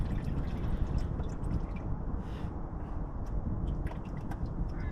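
Transmission oil dripping steadily from a Mercedes SL R230 gearbox into an oil pan after the filter is pulled, a continuous liquid patter with small irregular drops over a low rumble.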